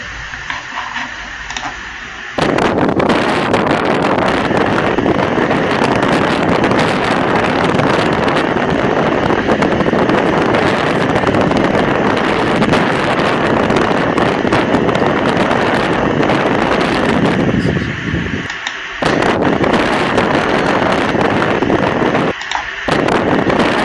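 Wind blowing in a desert, a loud, continuous roaring rush of wind noise hitting the microphone, starting abruptly after a quieter moment and briefly dropping out near the end.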